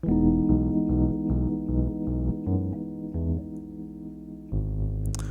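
Keyboard chords sound in a steady rhythm, each one struck and released in turn, full and close, ending on a longer sustained chord.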